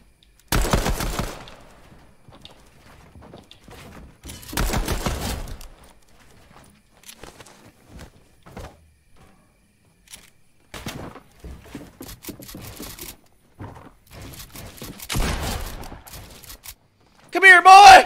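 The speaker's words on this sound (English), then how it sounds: "thought that was you shooting me" Fortnite gunfire rattles in several loud bursts of rapid shots separated by quieter stretches, with scattered single shots and game sounds, while players talk over the action.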